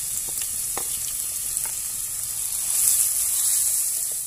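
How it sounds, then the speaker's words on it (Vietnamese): Garlic, chili, onion and lemongrass fry in a hot pan with a steady, bright sizzle and a few faint scrapes, no voices. "Chúng ta sẽ cho cái phần tỏi, ớt, hành và sả mình đã băm lúc nãy á"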